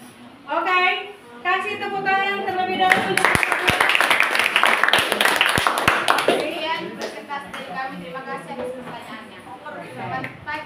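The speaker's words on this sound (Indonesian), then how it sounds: "kasih tepuk tangan terlebih dahulu" Clapping from a classroom audience during a peer-teaching training session, a burst of several seconds of handclaps mixed with children's and adults' voices talking over and after it.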